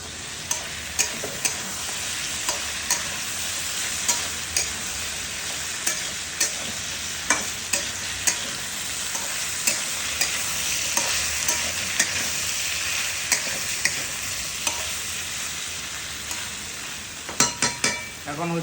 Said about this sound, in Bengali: হচ্ছে এখন আলু ভাজা।